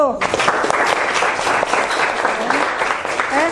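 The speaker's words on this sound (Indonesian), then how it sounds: "Tepuk tangan untuk kelompok 1" Classroom applause at a junior high school for a student group after its presentation, a dense burst of many hands clapping at close range with children's voices mixed in throughout.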